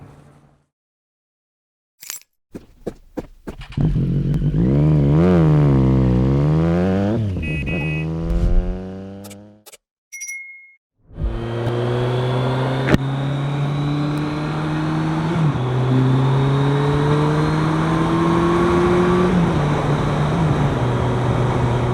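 A motorcycle starts with sharp clicks, then revs and runs up through the gears before a brief pause. It pulls away again with a steady engine drone, close and loud, as it rides along the road.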